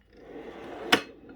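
A drawer on a classic Snap-on toolbox slides and knocks shut with one sharp metallic clack near the end, following a soft rolling rumble. It is close and otherwise quiet.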